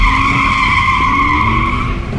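Tires on an Audi Quattro all-wheel-drive electric car squeal in a sustained, loud, high-pitched screech as it corners hard on a test course, lasting a couple of seconds without any talk.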